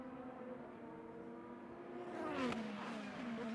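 An IndyCar race car engine whines at high pitch during an open test session at Thermal, its revs climbing and then falling away in a sweeping pass that swells loud and close before fading slightly.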